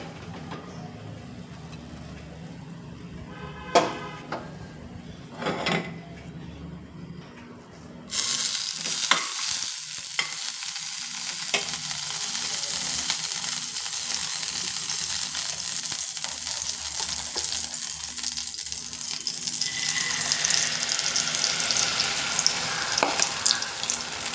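Dosa batter sizzles loudly and steadily on a hot pan, a continuous close frying hiss that begins abruptly after some quieter kitchen clatter and runs to the end without talk.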